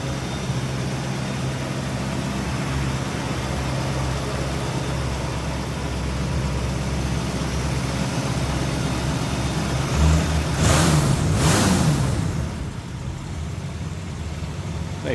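A 1966 Ford Mustang Coupe engine runs at a steady idle with a low rumble, then briefly revs up with a quick throttle blip before settling back, close and fairly loud.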